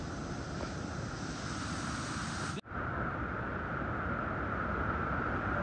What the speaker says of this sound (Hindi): आवाज़ भी देख लो कितनी खतरनाक है झरने की